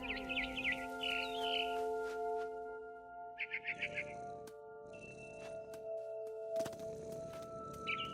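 Birds chirp and twitter in short bright bursts over a steady game soundscape in What Remains of Edith Finch, where a barn swallow returns to its nest outside a window, with faint voices underneath.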